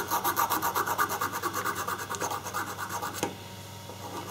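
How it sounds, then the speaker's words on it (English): Rust is scraped off the steel bogie of a railway chassis during a Caledonian locomotive restoration, a loud rhythmic back-and-forth rasping of about a dozen quick strokes, then a sharp knock and quieter scraping. "Here is the bogie, which I would like to try and clear a little rust on."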